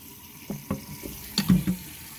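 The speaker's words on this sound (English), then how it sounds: "all I do is rinse it out with a little bit of water" Tap water splashes while a blender jar is rinsed out in a home kitchen, a few short gushes and sloshes close by with no talking.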